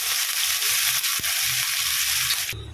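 Vegetables frying steadily in hot oil with dried red chilli and black cumin, a loud continuous sizzle with a sharp crackle near the middle, softening slightly at the very end.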